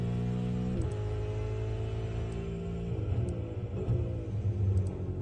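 A loud, steady V8 engine roar from inside a V8 Supercar on the main straight at Bathurst, its droning pitch holding high at full throttle, no talking.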